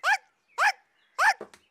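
Three sharp dog barks, evenly spaced, close by, followed by a short whimpering yelp.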